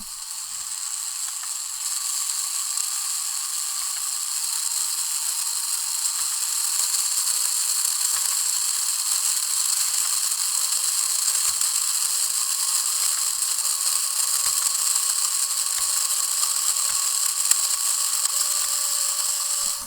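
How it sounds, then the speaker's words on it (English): A small robotics motor runs with its gears, a loud continuous high whir with a buzzing, ratchet-like texture and occasional faint clicks, steady for the whole stretch. "Ooh, my motor started running."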